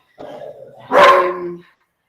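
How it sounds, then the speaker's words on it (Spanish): Dogs barking indoors, one short loud bark burst following a lower whine-like yelp, close and alone with no talk. "Es la hora en la que mis perros se ponen bien activos."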